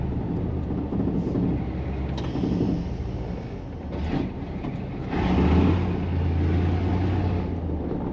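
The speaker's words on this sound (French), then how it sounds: "Là, tu peux pas démarrer là?" A cold van engine that has been struggling to start turns over and settles into a steady low rumbling idle, heard close by with rising noise partway through and no talk.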